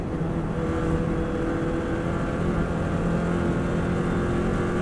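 A Subaru WRX STI's engine pulls hard under acceleration on the Isle of Man TT road course, a loud sustained roar with rising tone, heard from inside the car without any talk.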